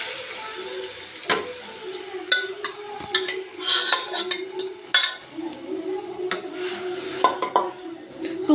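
Cooked moong and toor dal are tipped into a hot pan and stirred, giving soft wet splashes and a gentle sizzle. Irregular scrapes and clinks of a spoon against the pan break in.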